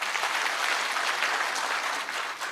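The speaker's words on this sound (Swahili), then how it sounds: "Pigeni makofi DG again" An audience at a security meeting in Kenya applauds a director general: dense, steady clapping from many hands, moderately loud and unbroken for a few seconds, with no speech over it.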